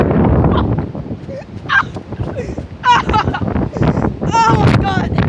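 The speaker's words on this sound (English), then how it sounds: "The wind is strong out here." Strong tornado-like wind storm buffeting an outdoor microphone, a steady low rumble of gusts running beneath near, excited speech that fills most of the clip.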